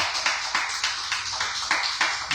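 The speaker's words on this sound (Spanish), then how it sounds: "¿Cuánto le damos un aplauso al Señor?" A church congregation applauds at a worship service, with rhythmic, unison clapping at a steady beat, fairly close and moderately loud.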